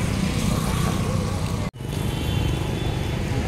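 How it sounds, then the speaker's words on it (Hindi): Vehicles stream past on every side at a roadside fair, a constant rushing roar of traffic with engine hum, briefly cut by a sharp dropout midway. "चारों बगल से गाड़ी जा रहा है ना,"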